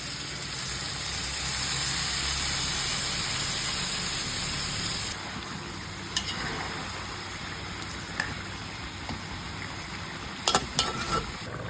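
Large chunks of chicken in marinade sizzling in a pan for Bulacan-style valenciana, a steady loud frying hiss that drops after a few seconds and continues more quietly with occasional sharp pops and clinks.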